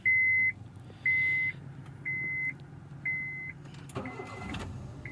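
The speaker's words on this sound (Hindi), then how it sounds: "गाड़ी स्टार्ट हो गई है" A Honda car is started with a newly made key after an ignition switch repair: five evenly spaced electronic chimes sound, then the engine cranks and catches near the end, with no talking.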